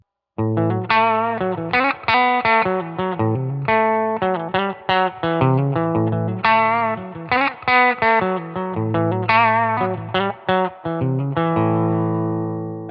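A distorted electric guitar through a Milkman Sound Pop Top boost pedal at unity, with its original op amp, plays a busy run of chords and single notes, loud and continuous, with a crunchy boosted tone and slight reverb.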